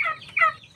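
Turkey gobbling at close range on a farm, a quick rattling gobble followed by a second, louder burst.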